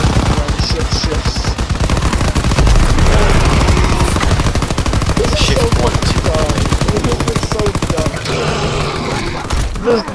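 Rapid, dense gunfire from the Call of Duty: WWII Zombies game at round 100, loud automatic bursts continuing nearly nonstop with faint voices talking underneath.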